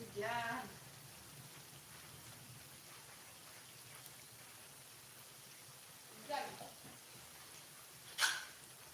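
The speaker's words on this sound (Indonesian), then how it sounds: "Hujan." Rain falls in a soft, continuous patter with no pauses, and brief voices break in now and then.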